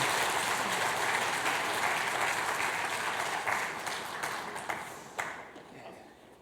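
A church congregation at a Christmas service applauds after a baptism, a broad wash of clapping hands that holds steady, then thins out and fades with a few last claps.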